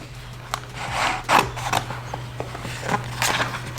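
Scissors snip through a paper template for a car wrap, giving a few close, crisp cuts spaced irregularly over a steady low hum, with no talking.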